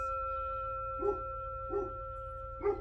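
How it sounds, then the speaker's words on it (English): A dog barks in the background of an indoor recording, three short, faint barks spaced about a second apart over a steady electrical hum. "Sorry if you can hear the dog."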